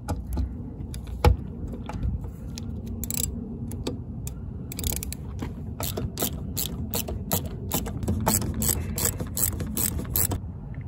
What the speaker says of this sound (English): I'm using the 3/32 hex bit, and we're going to mount our bracket facing this way.